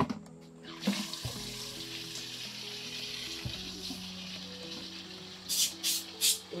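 Water runs steadily from a tap for a shower, a continuous hiss with a few knocks and brief louder splashes near the end.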